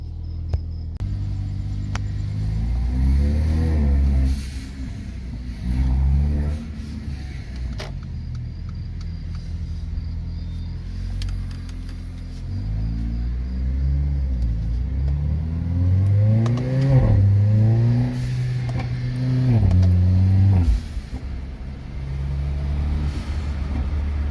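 A Mercedes-AMG A45 fitted with a Forge blow-off valve idles with a deep rumble, then revs up and down in several rising and falling bursts, each release followed by a short whoosh. The sound is close and fairly loud, with no talking.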